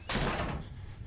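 A door slides or swings shut with a single dull thud in the horror game Outlast 2, a short close impact that quickly fades into quiet background noise.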